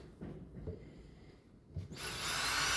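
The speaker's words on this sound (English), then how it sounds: "I have to pre-drill a hole here" A drill bores a pilot hole into a wooden barn owl nest box, kicking in abruptly as a loud, steady whir after a few soft handling knocks.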